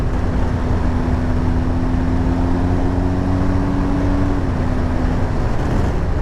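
A BMW R1250GS motorcycle on a test ride, its engine droning steadily with a sustained tonal hum under heavy, constant wind rush throughout, no talking.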